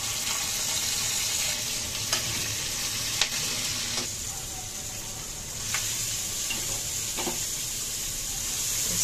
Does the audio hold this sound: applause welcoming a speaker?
no